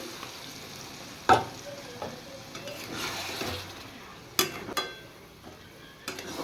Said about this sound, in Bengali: এবার সবজিটা একটু মশলা সহ কষিয়ে জলটা একদম শুকিয়ে দেব